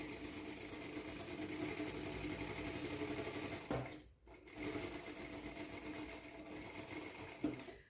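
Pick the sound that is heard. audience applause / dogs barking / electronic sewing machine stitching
electronic sewing machine stitching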